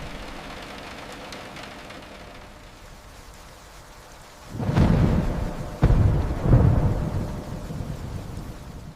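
Steady rain hissing on the night before a presidential visit in Fort Worth, Texas, then heavy thunder rolls in with two loud booming crashes close together, rumbling on over the continuing downpour.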